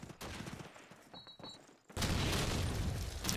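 A grenade explodes in a Call of Duty match: gunfire crackles, then a loud, sudden blast bursts in and leaves a dense, roaring wash for the final moments.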